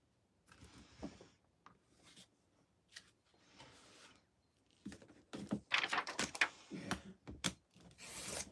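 Cutting through napkin box cover material guided by a ruler, heard as scattered scraping and rasping strokes that grow louder and denser toward the end, with no talking.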